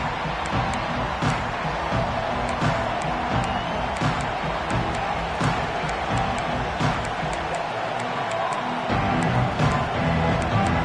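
A packed football stadium crowd in a college game between Auburn and its opponent roars in a dense, sustained wash of cheering, distant and continuous, with a broadcaster's voice faintly underneath.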